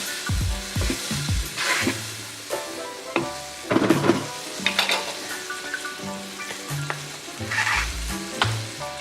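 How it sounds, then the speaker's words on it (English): Butter melting in a hot pan for shrimp scampi gives a steady sizzle with occasional spatter, joined by irregular clinks and scrapes of a utensil against the pan and a faint hum of kitchen music underneath. "So we're going to let this butter melt in there."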